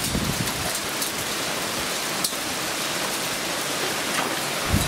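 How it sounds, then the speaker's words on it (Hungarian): Hail falls as a dense, steady hiss of pelting ice across the whole stretch, loud and even, with a few sharper hits standing out and no voices. "Jégeső esik."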